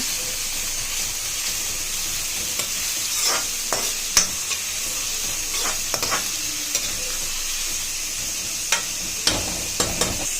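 Sliced onions with green and black cardamom sauté in oil in a kadai for a tomato kurma. A steady, close sizzle and hiss is broken by intermittent scraping knocks as a spoon stirs.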